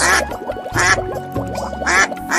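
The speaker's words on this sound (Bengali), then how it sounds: "বাস করত একটি হাঁস" A cartoon duck quacking loudly and close, three or four nasal, raspy quacks in quick succession with short gaps between them.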